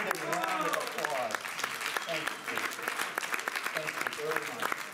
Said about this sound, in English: Hand me your dollar as you return to your seats for a resounding round of applause.